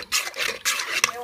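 A spoon stirring sugar and cardamom into a pot of boiling liquid, giving two or three close scraping strokes with a brief clink near the end.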